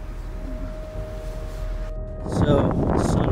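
Strong wind at sunset on an island buffets the microphone with a constant roar that grows louder and gustier toward the end.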